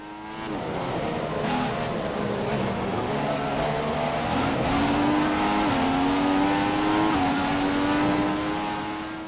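F1 cars in the racing game F1 2015 scream past with high-revving engines, the whine climbing in pitch through gear changes over a sustained, loud run.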